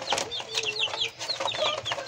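Chickens cluck and chirp in a short, busy burst of repeated calls close by, from a small backyard flock that includes a young bird thought to be a rooster.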